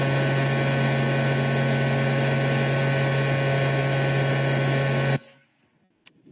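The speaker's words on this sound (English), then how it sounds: "So this is what the truck sounded like during charging." Electric truck cooling system during megawatt charging, recorded one meter in front of the truck: a loud, steady whirring roar with a strong low hum, which stops abruptly and leaves near silence.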